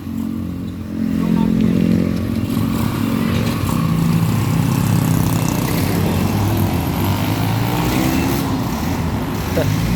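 A Rouser 135 motorcycle engine, freshly rebuilt, revs steadily and loudly at close range for nearly the whole stretch, sustaining a rough, buzzing drone with no clear pauses.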